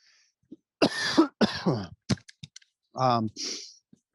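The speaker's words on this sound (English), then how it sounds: "I got a little cough here" A couple of close throat-clearing coughs mixed with short voiced bursts and scattered clicks, near and moderately loud.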